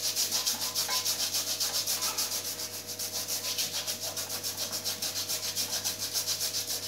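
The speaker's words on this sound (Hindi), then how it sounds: "फिर एक ब्रश को ब्रश लेके इस तरीके से इसे क्लीन कर लें।" A brush scrubs back and forth over an air conditioner filter in quick, regular strokes, a close rhythmic rubbing under a faint steady hum, with no voices.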